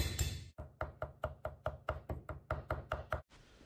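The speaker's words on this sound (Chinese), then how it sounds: "剁成细一点的蒜末" A knife mincing crushed garlic on a cutting board, about a dozen crisp, evenly spaced chops in quick rhythm, close but fairly quiet, with no talking.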